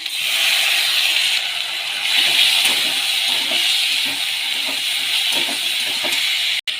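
Onion, potato and spices fry in a pan with a loud, steady sizzling hiss that runs almost without pause, cut off briefly near the end; no one speaks.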